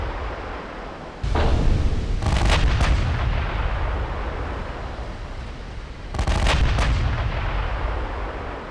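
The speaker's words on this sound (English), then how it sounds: "27-second reload on those 16-inch guns." Heavy 16-inch naval guns of a Japanese battleship in the naval strategy game Ultimate Admiral Dreadnoughts fire two booming salvos several seconds apart, each with a deep rolling rumble that lingers over constant low background noise.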